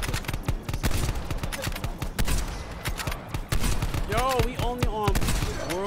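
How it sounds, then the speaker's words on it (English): Sniper rifle fire in a zombie-style shooter video game, rapid loud bursts of repeated gunshots close up, with voices talking over the shooting. "This is a sniper rifle."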